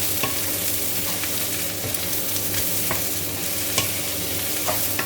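Bell peppers stir-fried in a pan over high heat, with a loud, steady sizzle close up and scattered scraping clicks of the utensil against the pan, no voices.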